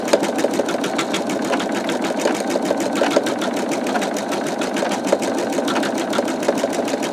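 An embroidery machine stitches a skull design in a fast, steady mechanical chatter of rapid needle strokes with a faint motor hum. It runs close and loud, unbroken for the whole stretch.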